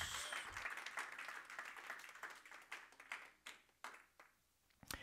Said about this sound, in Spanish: ¿Cuántos le dan palmas al Señor? ¿Cuántos le dan palmas?